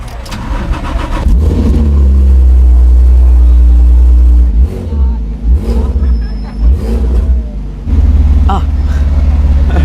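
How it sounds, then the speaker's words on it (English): A powerful Fenyr SuperSport supercar with a tuned Porsche engine starts and revs hard up close on a London street, roaring through several throttle blips before settling, with voices talking briefly over it. "It's based on a roof-tuned Porsche engine, so you might be able to hear that."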